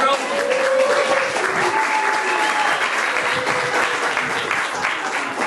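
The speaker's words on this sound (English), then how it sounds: "clap for Ben Wybrick" Comedy show audience clapping, a sustained, even burst of applause from a crowd that carries through the whole stretch with some voices mixed in.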